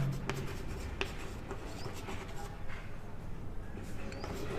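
Writing on a board during a maths lesson, with a soft continuous scratching and rubbing of the writing tool close by, under faint background noise and a brief voice.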